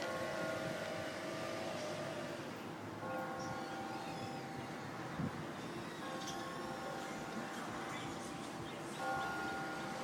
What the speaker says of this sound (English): It's the bells of Boom U. They toll for thee, and they're going to toll for quite a while.